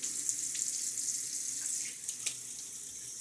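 A faucet runs steadily to wet a boar-bristle shaving brush, a close, even hiss of flowing water with slight splashy changes as the brush moves under the stream.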